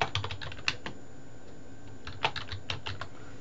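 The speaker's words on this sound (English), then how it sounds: "type a period and enter twice and type sincerely, enter 4 times and type my name" Fingers tap a computer keyboard in quick, light bursts, a flurry of clicks, a short pause, then another run of keystrokes, close and fairly quiet in a still room.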